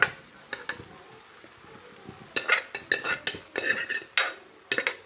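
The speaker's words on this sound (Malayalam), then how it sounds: "വൻപയറും ഇട്ട് കൊടുത്ത് നല്ലപോലെ ഒന്ന് ഇളക്കാം." A red gram and raw banana stir fry being stirred in a pan, heard as repeated close scraping and clattering strokes of a spoon. The strokes quicken and grow denser in the second half.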